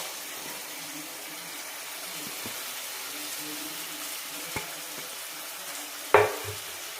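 Washed mutton pieces browning over a high gas flame with turmeric, a soft continuous sizzle with occasional utensil knocks and one louder clatter near the end.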